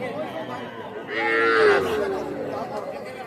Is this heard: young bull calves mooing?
yes